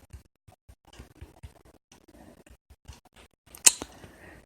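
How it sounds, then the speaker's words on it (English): Irregular light clicks of typing on a keyboard, faint and close, scattered taps with small pauses and one sharper click near the end, no talking. "Typing here."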